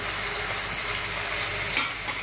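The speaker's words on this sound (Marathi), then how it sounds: "कांदा थोडासा परतला आता त्याच्यामध्ये टोमॅटो घालूयात आणि टोमॅटोला सुद्धा एखादा मिनिट फक्त परतून घ्यायचं" Onion and tomato sauté in hot oil in a pan for a homemade pasta sauce, giving a steady close sizzle with faint stirring scrapes and one brief sharper clink near the end, with no talking.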